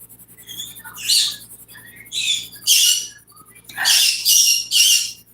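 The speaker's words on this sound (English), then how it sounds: "my birds were chattering at me" Several birds chatter and squawk in short, shrill bursts with brief pauses between, fairly close, over a quiet background hum.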